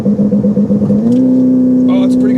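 A Ferrari F8 Tributo engine rumbles low, then revs up into a loud, rising, sustained drone as the car accelerates hard in a launch control start, close by.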